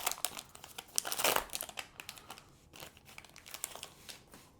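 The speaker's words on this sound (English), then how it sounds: "let's rip one more pack" A pack of sports cards is torn open with close, crisp crinkling and ripping of foil wrapper, brief bursts of rustle that fade into lighter handling noises.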